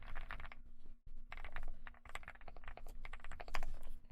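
Key presses on a freshly built mechanical keyboard, a quick steady run of crisp clacky strokes with brief pauses, close and clear.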